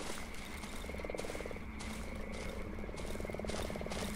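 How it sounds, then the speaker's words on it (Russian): Toads croak in the swampy woods of the horror game Darkwood, with rattling trains of croaks rising and falling over a steady low ambient drone, fairly close and continuous without any talking. "Жабы воркуют."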